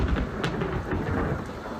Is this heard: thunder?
yes